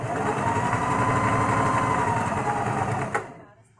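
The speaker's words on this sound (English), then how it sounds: "That's the other thing about sewing super fast." A sewing machine stitches fast with a steady, continuous whir that runs loud and close for about three seconds, then stops with a click and fades to quiet.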